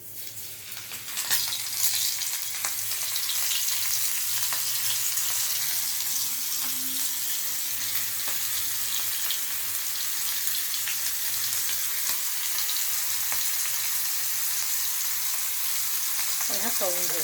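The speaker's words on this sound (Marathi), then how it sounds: "आता हे 5 कोळंब्या मी चांगल्या कोट करून घेतल्या, तर आता आपण ह्यात एक एक करून तेलात तळू" Coated prawns frying in hot oil over a medium gas flame, a continuous loud crackling sizzle that holds steady throughout, with a brief clink of utensils near the end.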